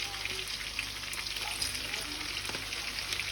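Potatoes fry in hot oil in a home kitchen, giving a continuous close sizzle with fine crackling throughout.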